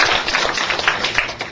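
Brief burst of warm applause from a lecture audience welcoming a visiting professor before a talk on plant protection products, a steady dense wash of clapping at moderate level with no talk.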